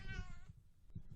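A cat gives a single meow, close but soft, followed by faint low rustling and quiet background sound.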